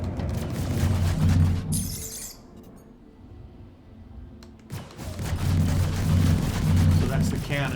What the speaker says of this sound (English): So that's the cannon off the nose.